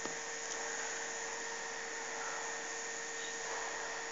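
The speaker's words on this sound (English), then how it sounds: "And now the motor is started." Small electric motor driven by an MSP430 motor control board, whirring in a steady, even hiss-like hum that runs unbroken for the whole stretch, close and moderately loud, with no talking.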